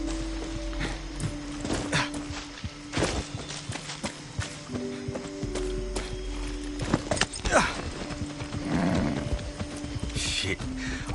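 A horse galloping in the video game Far Cry 6, with rhythmic hoof clops and thuds over a steady mechanical hum and game ambience, moderately loud and close.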